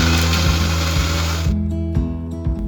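A mixer grinder grinds masala into a smooth paste, a loud steady motor whine with a rhythmic pulsing hum, then the high grinding noise cuts off and leaves a lower running drone with a few clicks.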